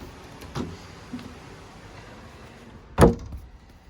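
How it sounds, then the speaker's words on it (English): A cabin door swings shut with a single solid, loud thud near the end, preceded by a couple of faint bumps and shuffles in a quiet room. "Let me close the door."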